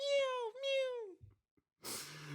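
A human voice imitates a kitten with two drawn-out, high-pitched meows, followed by a brief pause and a short burst of breathy noise.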